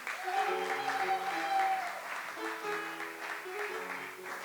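A church congregation claps and cheers in praise at a French-language worship service, steady sustained applause with a sung or held musical tone running underneath, fairly distant and even throughout.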